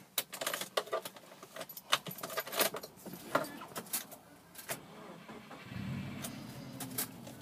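A 2.5-litre Subaru Forester Xten with manual transmission is started after a burst of jangling keys, its engine catching and settling into a steady, low idle rumble near the end.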